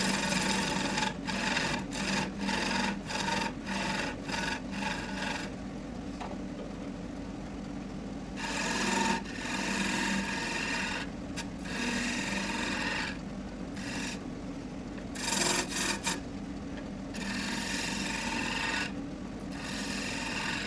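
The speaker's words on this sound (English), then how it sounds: "We'll use the parting tool, and we'll use our scraping tool to shape it." Parting and scraping tools cut into a spinning wooden shovel handle on a lathe, a steady rasping scrape interrupted by repeated short pauses, then longer cuts with gaps, close and moderately loud.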